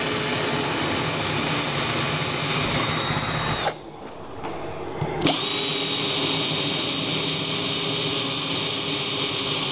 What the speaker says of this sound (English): Using the 10mm drill, drill through the point.